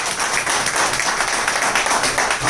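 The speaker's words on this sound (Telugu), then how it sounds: "నమ్మినోడు గట్టిగా చప్పట్లు కొట్టాలి" Church congregation clapping hands loudly, a dense continuous patter of many palms across the whole moment, with faint voices underneath.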